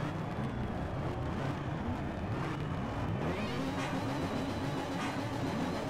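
Mitsubishi Lancer engines racing in Need for Speed: Shift 2, heard as a dense, fairly quiet blend of several car motors droning and revving together without a break.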